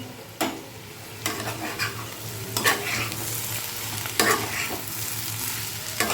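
Food sizzles in hot oil in a pan at home, with a constant loud crackle. Every second or so a spatula stirs or scrapes through it, making sharp swishing strokes.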